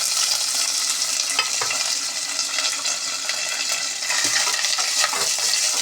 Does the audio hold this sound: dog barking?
no